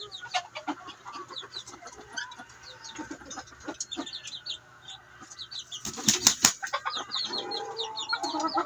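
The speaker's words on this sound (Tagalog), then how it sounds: "Mapagaspas na ng pakpak niya." A labuyo junglefowl rooster clucks and chirps in short bursts close by, then beats its wings in a loud flurry of flapping near the middle before more calls resume.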